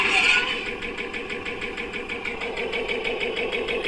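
A lightsaber sound font mimicking Sebulba's podracer engine: a steady buzzing engine-like drone with rapid pulsing flutter, loud and close, running continuously without talk.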